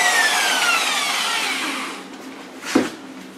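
A Black & Decker car buffer polisher whirs with a steady motor whine that winds down and fades out, followed by a single brief knock.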